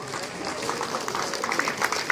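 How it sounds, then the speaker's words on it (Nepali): An audience at a church gathering gives dense, sustained clapping for the chief guest, a municipal administrator, with scattered voices mixed into the steady applause. "सबैजनाले जोरदार तालीको साथमा"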